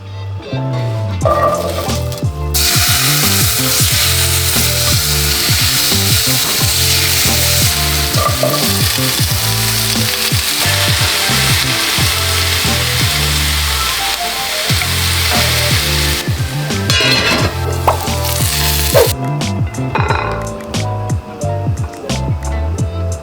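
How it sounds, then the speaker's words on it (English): Vegetables seasoned with Himalayan salt and black pepper sizzle on a grill, a loud continuous crackling fry with scraping and stirring sounds and a few clinks. "I love grilling all of my vegetables"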